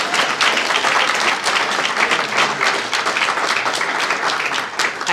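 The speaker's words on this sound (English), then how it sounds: "another round of applause for the people." Loud, dense applause from an audience at a poetry and performance event in a San Francisco museum, sustained steady clapping throughout with no break.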